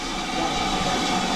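Locomotive 31806 stands at Corfe Castle station on the Swanage Railway, giving off a loud, steady steam hiss and rumble up close.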